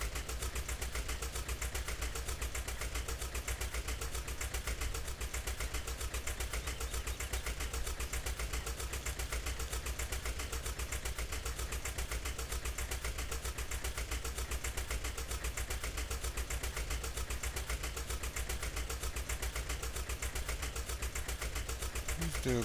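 A tractor engine runs steadily in Farming Simulator 17, a continuous mid-to-low drone that holds at an even level for the whole stretch, with no talk over it.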